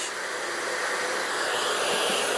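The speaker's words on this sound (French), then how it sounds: "Et maintenant, je vais allumer le sèche-cheveux." An electric hair dryer running off an Allpowers R2500 portable power station gives a steady, broadband airy whoosh, loud and unchanging throughout with no voices.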